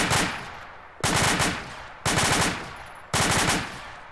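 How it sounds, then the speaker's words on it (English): Automatic machine gun fire on full auto during infantry fire-team training, traversing across targets: four sustained loud bursts of rapid shots, each about a second long with short gaps, close and clear with no talking. "I'm going to shift my gun to auto. I'm going to traverse fire from the AIMG side and towards the pistol sign."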